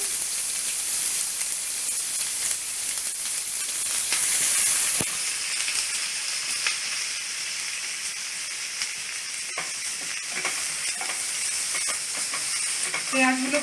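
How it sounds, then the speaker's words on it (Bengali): Chopped onions fry in a pan with oil and whole cumin seeds, giving a steady close hiss and sizzle with occasional stirring scrapes and no voices. "পেঁয়াজগুলো ভালো করে লাল লাল করে ভাজবো একটু"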